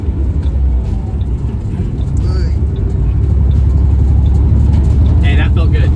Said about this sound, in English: Engine braking feels good.